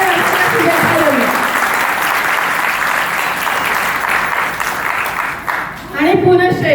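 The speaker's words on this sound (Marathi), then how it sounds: "सर्वांनी टाळ्या वाजवून काकांना 75 वर्षाच्या शुभेच्छा देऊया." An audience at an uncle's 75th birthday celebration, held alongside a 50th wedding anniversary, claps in a dense, loud burst of applause that thins toward the end, with a voice speaking as it dies away.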